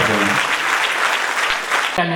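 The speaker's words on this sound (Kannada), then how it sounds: "ಒಂದು ಚಪ್ಪಾಳೆ ನೀಡೋಣ" The audience at a felicitation ceremony for Dr. K. Siddappa breaks into steady, full-room applause. A voice cuts in near the end as the clapping continues.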